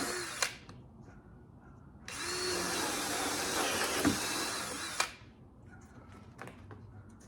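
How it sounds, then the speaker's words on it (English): A power drill bores through panels for a home climbing wall build. There are a few short taps, then one steady, loud whirring run of about three seconds, followed by small handling clicks. "So we're gonna go ahead and drill these through."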